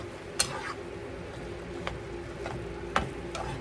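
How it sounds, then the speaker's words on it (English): A spoon stirs okra and tomatoes in a pot, quiet scraping with a few sharp clinks against the side spaced over a few seconds, under a low steady simmering hiss. "now I'm going to get it stirred together, just like this"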